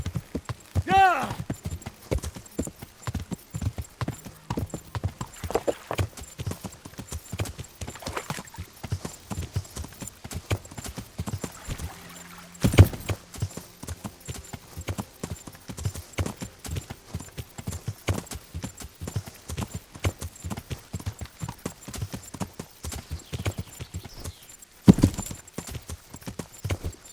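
Hooves of a galloping horse in the medieval game Kingdom Come: Deliverance pound in a steady, fast rhythm throughout, with a snort or whinny near the start and a couple of louder thuds along the way.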